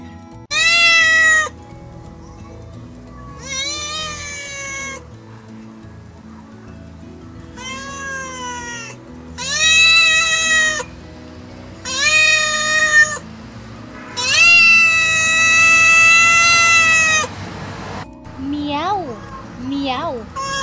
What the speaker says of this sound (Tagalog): Miyaw ang tingog sa iring.